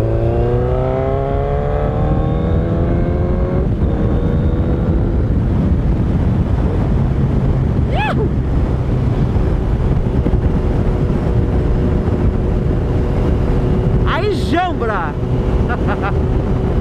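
A Suzuki RF900R four-cylinder motorcycle with a straight-pipe exhaust runs steadily on a highway, its engine note rising and falling through gear changes under heavy wind noise, with a few faint sharp pops.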